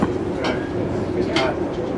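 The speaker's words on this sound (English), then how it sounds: "the third locomotive is to help pull our train up through the maximum gradient" A passenger train pulled by three locomotives climbs a steep grade through the Columbia Mountains toward the Rockies, giving a steady rumble with faint rhythmic rail clatter and a voice speaking over it.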